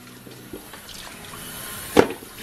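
Tap water splashes and trickles in a kitchen sink while cutting boards are being cleaned, mostly soft and low, with a brief louder splash or knock of a board near the end.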